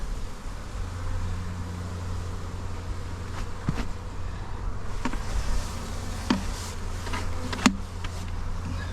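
Bees buzz around a hive soon after a swarm has landed, a dense, continuous drone with individual insects zipping close past at moments, fairly loud and without speech.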